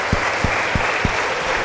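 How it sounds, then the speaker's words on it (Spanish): A church congregation claps loudly in a steady rhythm for the Lord, with four distinct low thumping beats standing out over a dense, continuous wash of applause. "Vamos, iglesia, démosle fuerte las palmas al Señor."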